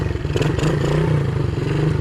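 A small pit bike engine runs up close and loud, its steady chugging, uneven idle rattling throughout with a mechanical clatter and no talk.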